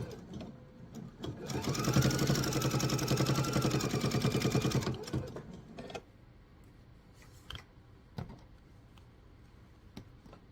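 A sewing machine stitches a laptop sleeve in a fast, steady whirring run lasting about three seconds, then stops, leaving quiet pauses with scattered clicks and handling taps nearby.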